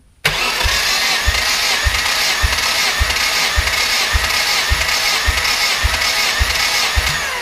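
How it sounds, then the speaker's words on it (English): A KA-T engine cranks over on the starter during a cylinder compression test, the starter whirring steadily with a regular rhythm of about ten low compression pulses, loud and close, with no talk. "we're gonna watch the crank turn 7 times"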